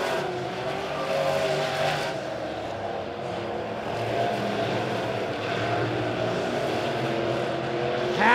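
Modified race cars on the Springfield speedway during a Midwest Modifieds heat race roar steadily through the whole stretch, engines droning loud and close with rising and falling revs as the pack runs the final laps.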